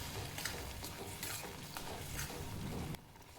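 Gram flour and curd being stirred into hot oil in a pan, with a spoon scraping and sizzling in irregular close strokes that cut off sharply near the end.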